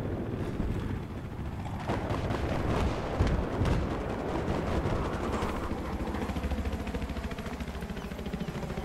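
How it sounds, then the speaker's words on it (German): Heavy gunfire aimed at the player in Battlefield 3 multiplayer, dense rattling bursts and booming impacts that pile up near and loud, then settle into a continuous rumbling clatter. "Hier wird auf mich geschossen, mit fettem Geschoss."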